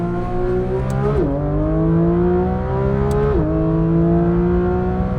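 A Manthey-tuned Porsche 992 GT3 RS on the Nürburgring accelerates hard, its engine note climbing steadily through two quick upshifts, loud and close from inside the car.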